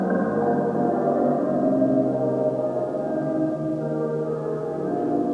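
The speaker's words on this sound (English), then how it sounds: "The last track in here is a spring reverb track." Spring reverb track from a Knaus Ekdal Moisturizer spring reverb unit, a steady, dense, resonant wash of sustained tones with a metallic shimmer, evenly loud and continuous without any talking.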